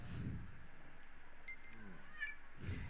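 A cat meows in the video game Lost Ark, a short mewing call in the middle of a steady hum of game ambience and music.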